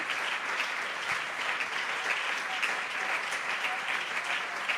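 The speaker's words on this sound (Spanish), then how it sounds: "Fuerte ese aplauso para él en esta mañana." Congregation clapping at a Sunday school church service, a full, even round of applause sustained throughout, heard from within the room with no speech.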